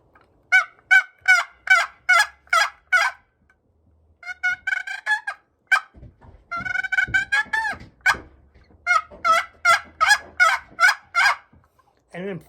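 A hunter imitates a turkey hen's tree call with a turkey call, giving a sequence of soft, raspy yelps in clear rhythmic runs, close and alone, with a short break of other calling in between.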